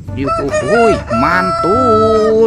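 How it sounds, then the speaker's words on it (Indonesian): A toy rooster crows loudly in a synthetic cock-a-doodle-doo, two rising and falling calls close up, with a brief spoken exclamation mixed in. "Ini ada ayam berkokok."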